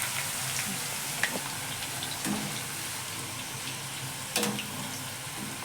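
French fries deep-fry in hot oil until golden brown, a soft, continuous bubbling sizzle with a few brief clinks and scrapes along the way.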